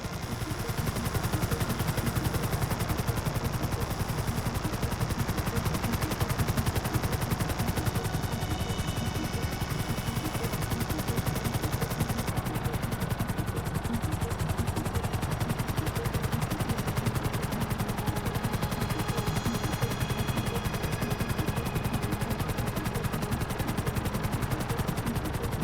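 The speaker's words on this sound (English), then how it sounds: "I need to be above, shooting down into it." Gunfire in the GTA video game comes as dense, continuous rapid shots layered over a steady rotor-like drone, loud and unbroken throughout, with no voices over it.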